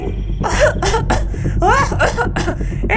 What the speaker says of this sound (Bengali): ওপর থেকে শাকচুন্নির কাশির আওয়াজ ভেসে এলো